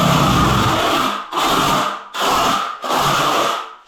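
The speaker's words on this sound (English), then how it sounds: "before waterproofing, I give my floor a scrape" A scraper is pushed across a floor being prepared for waterproofing, making four long, harsh rasping strokes with short pauses between them, close and loud.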